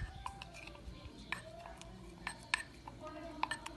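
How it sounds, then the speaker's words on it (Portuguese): Light clinks and scrapes of a spoon against a bowl as a sago pudding mixture with milk is stirred, irregular taps spread throughout, faint and close. "Mexe bem."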